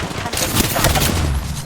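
Dense Apex Legends gunfire crackles almost without pause through the whole stretch, loud and close, with faint battle noise around it and no clear speech.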